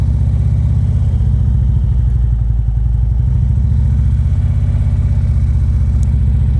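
A motorcycle in a group riding lesson pulls away in first gear as the clutch is let out at about 2,000 rpm, its loud, close engine throbbing steadily and evenly throughout with no voices.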